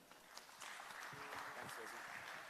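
Audience applause at an energy conference session, a crowd of clapping that swells after a brief start and stays steady, with a voice talking over the middle.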